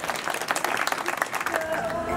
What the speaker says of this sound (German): kleiner Applaus für uns selbst